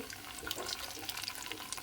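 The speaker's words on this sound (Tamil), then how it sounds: "அந்த மிக்சி ஜாரில் கொஞ்சம் தண்ணி விட்டு கூட கழுவி விட்டுக்கலாங்க" Water splashes and swishes steadily inside a mixer jar as it is rinsed, a faint, continuous wet rushing with small splashes and no talk.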